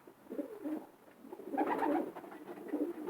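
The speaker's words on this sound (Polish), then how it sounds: "A to jest gołąbek, który im starszy, tym sobie lepiej radzi na długich dystansach." Soft, low cooing from a long-distance racing pigeon, a few rolling coos rising and falling close by, faint against a quiet background.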